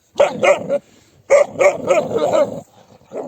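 Kangal dogs, including a puppy, bark up close in a forest in quick bursts, a short volley, a pause, then a longer run of sharp barks.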